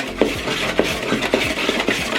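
A whisk scrapes steadily through flour, baking powder, onion powder, kosher salt and white pepper in a bowl, making rhythmic, close, clinking strokes against the sides, heard alone and fairly loud.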